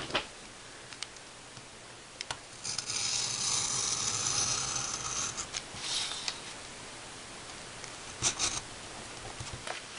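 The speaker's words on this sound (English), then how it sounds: "I'm going to take my X-Acto knife and I'm going to cut hard enough to cut through this one" An X-Acto knife slices through magazine pages along a ruler with close, soft scraping strokes and sharp little ticks and clicks, several short cuts in sequence.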